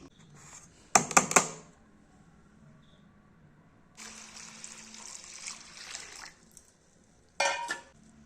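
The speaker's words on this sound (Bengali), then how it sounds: "এবার এই গ্রেটার দিয়ে চাল কুমড়োগুলো সব গ্রেট করে নেবো" Ash gourd rubbed on a small hand grater in a home kitchen, heard as three separate bursts of close, scratchy rasping strokes with quiet pauses between them.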